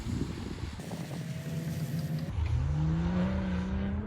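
A BMW M2 CS driven on a track with traction control on, its engine droning loudly and close, then climbing in pitch as it accelerates hard, with no talking.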